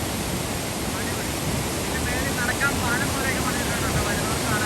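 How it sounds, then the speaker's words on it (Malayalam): Thooval waterfall in Idukki, Kerala, gives a constant loud broadband roar of rushing water, steady and unbroken throughout, with a faint murmur of voices in the background. "വെള്ളച്ചാട്ടം നോക്കണം."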